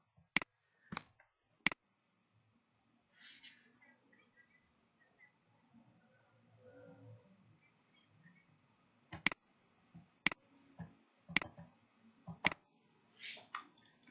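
A computer mouse is clicked in sharp, isolated snaps: three early, then a quick cluster of five later, close to the mic, with faint rustling and murmuring in between.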